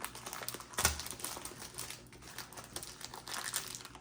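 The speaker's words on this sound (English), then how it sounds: "this plastic is hella tight, so I'm gonna have to, of course, rip this little bag" A tight little plastic bag is torn open by hand, giving crisp crinkling and ripping with one sharp burst early on, then steady close rustling with no talking.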